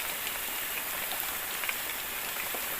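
Heavy rain pours steadily onto a treehouse beside a river, a dense, even hiss of drops close by with a few brighter patters, and no voices.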